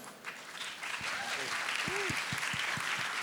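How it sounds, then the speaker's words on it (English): Applause from a conference audience thanking a hardware business panel rises and holds as a steady wash of clapping, while a voice speaks over it in brief, low bursts. "Ladies and gentlemen, give them a round of applause."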